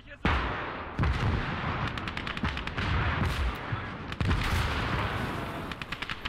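An artillery battery firing in the World War II strategy game Call to Arms: Gates of Hell, with repeated loud booms and sharp cracks over a dense, rumbling wash of battlefield gunfire.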